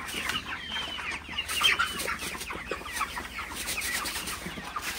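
Broiler chickens on a farm at dawn, after being given water, cluck and chatter continuously as a close, dense flock, with a louder squawk partway through.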